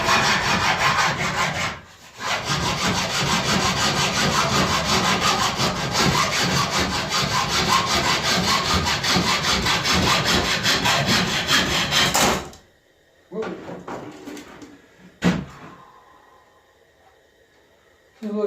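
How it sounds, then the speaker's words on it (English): A hacksaw cutting through a bolt, loud, close, rapid back-and-forth rasping strokes for about twelve seconds with a brief pause early on, then a few short scraping bursts and quiet. "that's why I use a hacksaw instead of bolt cutters."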